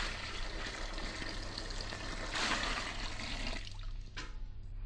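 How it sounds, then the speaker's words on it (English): A gallon of water pours steadily into a witch's cauldron, a loud continuous rushing splash that thins out toward the end, with no voices over it. "And the final ingredient, a gallon of water from Niagara Falls."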